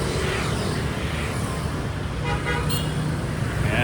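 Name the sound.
street traffic with car horn toots, Ho Chi Minh City at night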